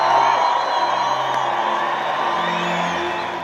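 Stadium crowd applauding and cheering the mother of goalkeeper Danilo during a tribute to Chapecoense, a dense, steady wash of clapping with scattered whoops and shouts throughout.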